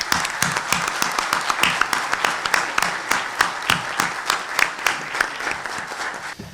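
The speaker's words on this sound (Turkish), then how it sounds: "Ben hepinizi tekrar arkadaşlar alkışlıyorum" Members of a municipal council in Salihli applaud in their assembly hall, a sustained round of clapping with individual claps distinct and rhythmic, close and fairly loud, no speech over it.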